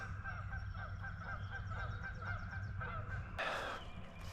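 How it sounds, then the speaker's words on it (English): Repeated honking calls from several Canada geese, fairly close, over a low steady rumble, with a louder burst near the end. "Canadian geese."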